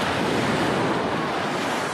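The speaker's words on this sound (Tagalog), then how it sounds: "lakas ng alon" Strong ocean surf pounds the shore at a beach resort in Camarines Sur, a loud, continuous wash of breaking waves with wind buffeting the microphone, no voices.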